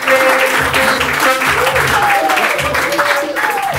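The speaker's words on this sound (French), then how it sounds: "On l'applaudit très fort." A French late-night television studio audience applauds loudly in a dense, continuous wash of clapping, while a host's voice carries over the top.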